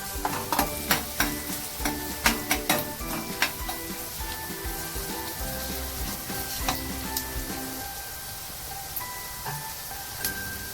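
Onion, garlic and ginger frying in a pan, a steady close sizzle broken by repeated sharp spoon taps and scrapes against the pan, with no voices.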